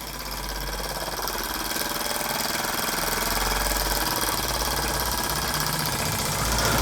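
A Wilson Brothers small vertical boiler model steam engine runs steadily, a dense continuous whir and rapid mechanical chatter that builds slightly in loudness over several seconds, close up with no voices.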